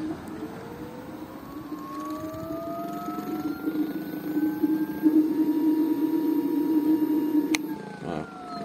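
A single-motor Wegoboard Blaster electric scooter in mode 2 whines as it speeds up, its rising tonal pitch climbing steadily over road noise before cutting out near the end.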